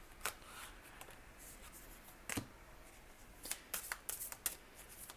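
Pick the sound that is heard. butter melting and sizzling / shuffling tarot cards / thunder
shuffling tarot cards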